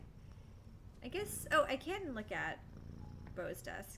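A cat purring in the video game No Longer Home, a soft, low rumbling purr that sits under a person talking over it for most of the few seconds.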